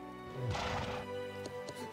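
Horse in the Trails of Cold Steel II video game gives a short whinnying neigh mixed with hoof clip-clops, fairly faint over a steady game music and ambience bed.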